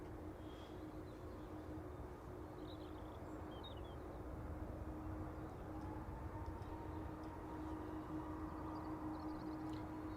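A Lufthansa airliner from Frankfurt at Dublin Airport, a faint, distant, steady jet rumble with a sustained engine hum that holds evenly throughout.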